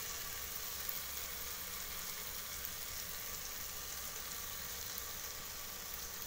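Tomatoes cook down in a pan for egg rice with a faint, steady sizzle that holds evenly throughout, close but quiet, with no voices.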